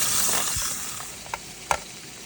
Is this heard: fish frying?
yes